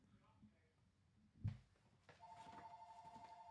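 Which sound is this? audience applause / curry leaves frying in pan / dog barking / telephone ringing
telephone ringing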